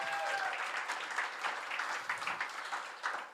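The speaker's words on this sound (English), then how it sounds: "please give them a big round of applause, whānau, for our Kōkiri whānau" At the Kōkiri 2022 showcase, an audience claps for the Kōkiri group, a moderately loud, fairly steady round of applause that thins into scattered claps toward the end.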